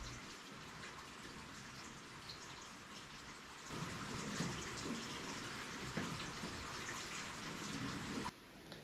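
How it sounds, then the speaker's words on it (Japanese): Steady, dense rainfall in the forest on Yakushima, heard from under a roof, a continuous hiss that swells slightly midway, with no voices. "結構雨が降ってきた"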